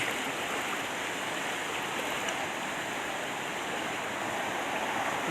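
Floodwater from a tropical storm rushes down a side street in a Thai municipality, a loud, continuous, close roar of fast-flowing water with no talk over it.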